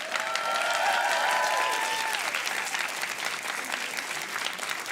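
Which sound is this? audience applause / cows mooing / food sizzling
audience applause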